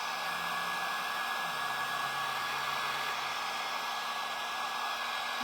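A heat tool blows steadily on white wax to dry it into a fuzzy, moss-like texture, a constant close whooshing drone with no pauses.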